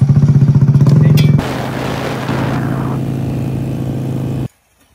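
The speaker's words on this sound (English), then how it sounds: "Warm Ryan's steed up." A dirt bike engine warms up at a sand pit, starting with a rapid pulsing idle, then rising into a steady, louder roar that holds for a few seconds before cutting off abruptly.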